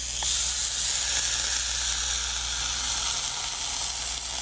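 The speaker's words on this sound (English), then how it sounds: "Oh, it's sizzling." Steady, loud hissing sizzle as a flat iron presses through damp, damaged hair, continuous and close with no talking.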